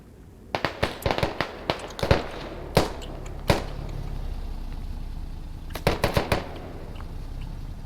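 Sharp rifle shots crack in the Squad military shooter, first in a quick irregular string, then a few isolated reports, then a final tight cluster, loud against a low rumbling background.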